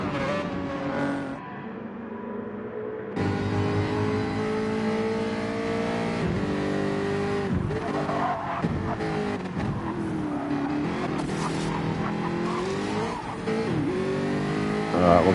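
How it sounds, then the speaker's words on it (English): Race car engines in a racing video game, with a pack of cars droning and revving close by, engine notes rising and falling through gear changes and some tire skids, and someone talking over them. "Look at all this gaggle of cars in front here."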